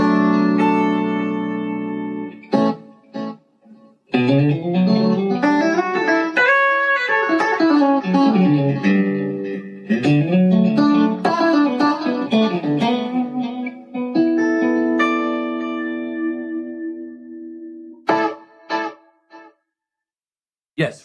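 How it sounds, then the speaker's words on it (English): Guitar played through an amp modeler in a Mesa Boogie style tone with Universal Audio reverb and delay, loud sustained notes and chords whose tails ring out and echo into gaps between phrases. "Yes, reverb and delay are active."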